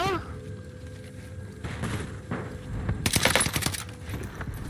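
STG 44 assault rifle fire in the Warzone video game, with a dense rattling burst of shots near the middle and end over game sounds, while a player talks.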